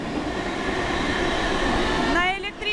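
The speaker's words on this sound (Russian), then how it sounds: "Но это не наша электричка." Electric commuter train at a railway station, a steady rumbling hum of rail cars with a brief squeal of wheels near the end.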